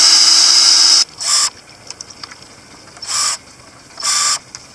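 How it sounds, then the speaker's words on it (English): Power drill with a wood bit drilling into wood while building an awning: a long high whine, then three short separate whirring bursts with quiet handling sounds between them. "when you're about to drill, you just jam it in and it holds it in place while you're drilling"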